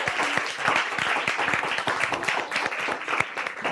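An audience at a live event breaks into applause, dense continuous clapping from many hands filling the room at a steady level with no speech over it.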